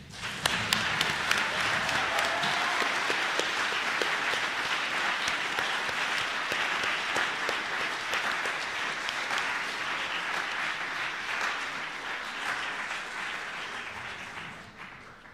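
Sustained applause from a large crowd honoring the GA3 delegates at a Model United Nations closing ceremony, dense and continuous for the full span and tapering slightly at the end.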